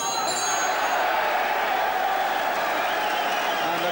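Boxing crowd cheering and applauding at an amateur bout, a dense, steady roar of claps and voices filling the whole stretch, loud and continuous.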